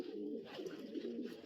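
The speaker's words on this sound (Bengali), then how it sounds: "এই যে একটা নর কবুতর আছে" Racing pigeons coo in a loft, a low throaty rolling coo repeated steadily, close but fairly soft, with no talking.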